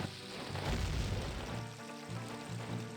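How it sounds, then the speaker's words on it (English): A deep, rumbling explosion in Zelda: Ocarina of Time booms loudly at first, then fades into a rough, crackling roar that lingers for a few seconds with no voices over it. "And explosion."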